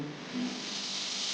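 A steady, soft hiss of water hitting hot chili powder and turmeric in a pan, a continuous close sizzle with no voices.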